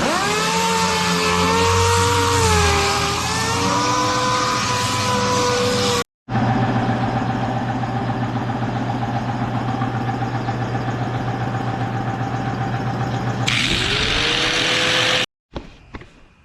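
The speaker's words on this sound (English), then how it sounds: "the air compressor kept pumping" An air compressor runs in a shop during a paint job on a drift quad, a loud steady mechanical drone that cuts out briefly, resumes, then shifts pitch near the end.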